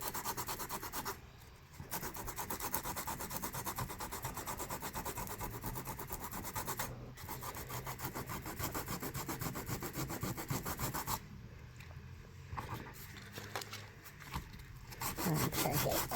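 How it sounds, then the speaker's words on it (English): Steady, close rasping and scraping as the edges of a mixed media piece are roughed up, a continuous abrasive rubbing with brief pauses, no talk over it. "Make sure I get all the edges nice and roughed up."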